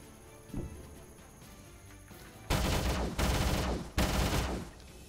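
Gunfire in the strategy game Age of Wonders: Invasions: one short shot early on, then three loud, rapid bursts of shots in quick succession over a quiet background.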